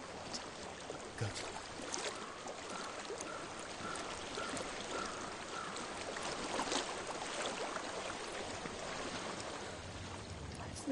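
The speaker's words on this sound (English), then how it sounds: "I hear water." Flowing stream water in the video game Hellblade: Senua's Sacrifice, a continuous close rush and trickle that holds steady throughout with no voices.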